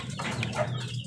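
Young chicks drinking Yakult mixed with vinegar, a soft flurry of close, overlapping peeps and chirps running steadily through the moment with a low steady hum beneath.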